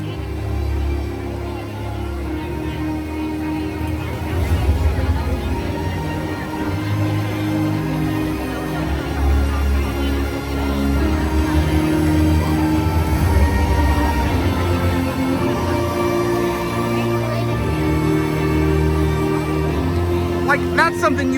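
Upbeat, celestial orchestral score playing over a theme park fireworks show, a dense, steady wash of music with swelling strings and brass that runs throughout, loud and continuous without a break.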